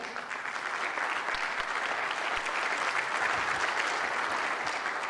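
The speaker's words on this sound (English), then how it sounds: "Can we please have a special big round of applause for Meelis?" A panel discussion audience gives a sustained round of applause, dense, even clapping that holds steady for about five seconds.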